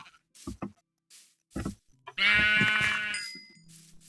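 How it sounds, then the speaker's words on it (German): Sheep bleat inside a video game: a few short soft thumps, then one loud, drawn-out wavering bleat up close, trailing off into a quieter tone. "Schafe sind hier genug."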